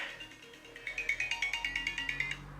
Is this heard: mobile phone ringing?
yes